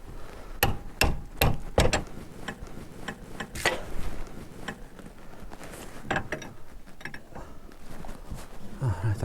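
Hammer tapping on a track rod end ball joint of a 2014 Lotus Evora, a series of sharp metallic knocks in irregular bursts, close and moderately loud, followed by fainter clicks and handling noises.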